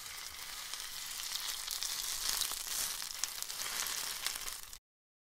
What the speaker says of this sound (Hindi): इसे हम अच्छे से सॉटे करेंगे।